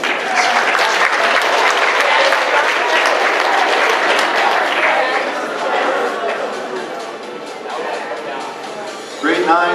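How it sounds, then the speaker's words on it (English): A school assembly audience at an academic awards ceremony claps steadily and loudly for a teacher presenter, a dense sustained round of applause with faint crowd murmur that tapers slightly before a final burst. "Round of applause for Mr."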